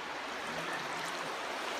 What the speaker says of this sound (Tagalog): may ilog sa ilalim ng tulay